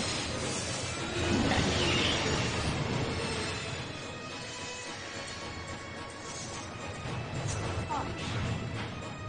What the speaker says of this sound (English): Trains be like that.